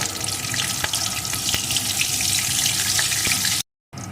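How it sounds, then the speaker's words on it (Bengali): Black cumin seeds and two slit green chillies frying in hot oil for a mustard hilsa curry produce a loud, close, steady sizzle with scattered pops and spatters, cutting out briefly just before the end. "এখন এই তেলের ভিতরে দিয়ে দেবো একটু কালো জিরে সাথে দিয়ে দেব দুটো চেরা কাঁচা লঙ্কা এখন একটু ভেজে নেব"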